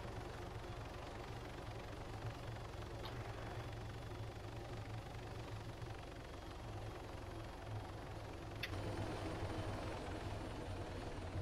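A video game helicopter in Arma 3, its steady rotor thrum and engine drone holding evenly throughout, with no talking.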